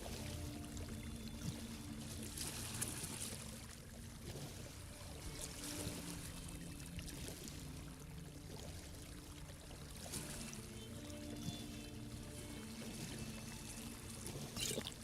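Steady flowing water in the Morrowind game world, a continuous rushing pour heard throughout at moderate level with no talk over it.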